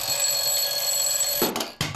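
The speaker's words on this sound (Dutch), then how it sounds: "die wekker gaat natuurlijk wel weer gewoon de volgende ochtend" An alarm clock rings with a steady, bright, continuous tone that breaks into short bursts near the end, loud and close, with no voices.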